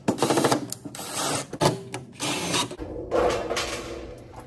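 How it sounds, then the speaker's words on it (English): Screws being driven back into the back panel of a Jennair refrigerator during a water-leak repair, a series of close mechanical ratcheting and clicking bursts with short pauses between them. "Now I can add my screws back in."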